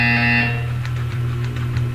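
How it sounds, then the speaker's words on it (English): An electronic buzzer in the video game Portal 2 sounds loud and harsh for about half a second, then gives way to a low steady hum with faint clicks. "When you hear the buzzer, look up at the ceiling."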